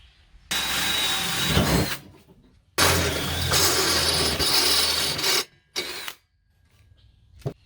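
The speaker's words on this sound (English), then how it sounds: "I'm going to be drilling a hole of a size to accommodate a grommet like this" A power drill whirs in loud bursts, drilling a grommet hole in metal on a school bus conversion, grinding with a harsh metallic whine, stopping and restarting several times with brief quiet gaps between.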